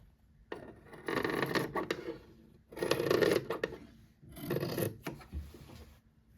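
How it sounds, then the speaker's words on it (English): Scissors cutting through the thick, many-layered waistband of a heavy pair of pants, three long rasping bursts of fabric being chewed through, close and fairly loud with short pauses between. "Cut half of the waistband at a time because that's quite a few layers of material, and sometimes it's just a bit tough to cut through."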